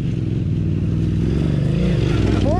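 A KTM 950 motorcycle engine rumbles loudly and continuously, a close, heavy drone that holds steady throughout.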